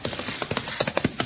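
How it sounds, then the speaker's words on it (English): A horse approaches at a trot, its hooves clip-clopping in a quick, uneven rhythm, fairly close and clear, with no talk over it. "There's a horse coming."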